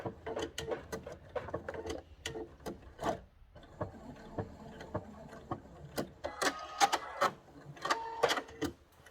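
A sewing machine stitching a fabric appliqué runs in short bursts of rapid mechanical clatter, stopping and starting with brief pauses, close and fairly quiet.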